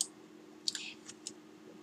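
Several sharp mouse clicks on a computer while drafting in AutoCAD, a pair close together then single clicks spaced apart, faint and sparse over a low steady hum with no talk.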